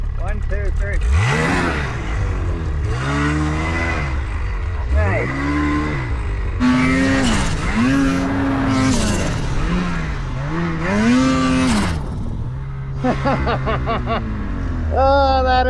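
Snowmobile engine revving hard on a mountain in deep snow, the pitch rising and falling over and over in loud, close throttle bursts while people talk and shout over it.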